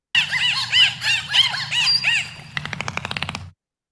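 Dolphin sounds, heard as a series of loud, rising and falling whistles followed by a quick burst of rapid clicks, then silence.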